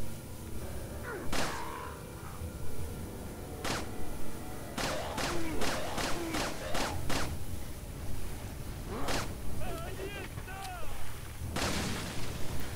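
Gunshots in the Resident Evil 4 video game, a string of loud sharp reports in quick succession over a dense game soundscape, with a player talking in between.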